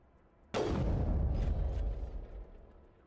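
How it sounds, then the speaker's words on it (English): Two heavy gunshot blasts from a sniper rifle in the video game Mass Effect, booming close and loud with a rumbling tail, the second hard on the first. "2 shots and he falls"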